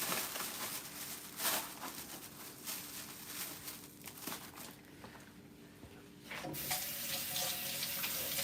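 A kitchen sink tap runs steadily while turkey necks are rinsed beneath it, giving a loud, continuous rushing stream with spattering that shifts and grows fuller toward the end.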